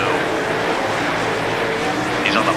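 Super late model dirt race cars roaring around Volusia Speedway in a dirt racing video game, a steady loud engine drone with tire noise throughout, under a commentator's voice.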